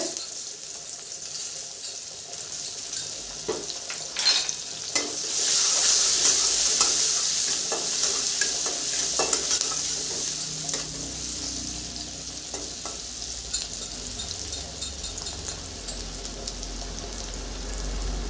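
Chopped onion fries in oil with a clove and a piece of cinnamon, a close, continuous crackling sizzle that swells briefly partway through, broken by occasional spoon stirs; nobody speaks.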